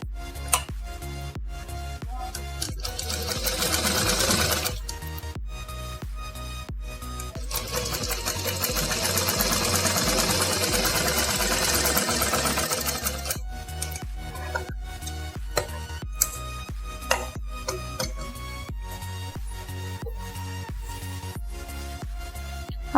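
A sewing machine stitches a plazo seam, running in long steady whirring stretches broken by short pauses and a few clicks, close and fairly loud with no talking.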